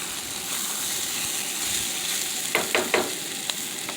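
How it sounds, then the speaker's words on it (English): Kielbasa sizzles steadily in a hot pan with rice, garlic and tomatoes, a continuous crackling fry broken by a few sharper spits and pops near the end. "So I'm gonna put my kielbasa back in."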